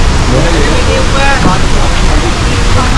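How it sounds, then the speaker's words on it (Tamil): Arvalem waterfall in North Goa runs full in the monsoon, a loud, close, steady broadband rush of water, with rain falling and people talking faintly beneath the roar. "இப்போது மான்சூன்றனால தண்ணி நிறைய வரதுனால இவ்வளோ தண்ணி ஓடுது."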